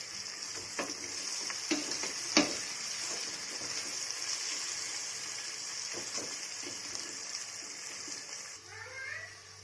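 Onions are sautéed on a low flame in a pan for seeraga samba chicken biryani, making a gentle, steady sizzle with occasional scrapes and clinks of stirring, close by and fairly quiet.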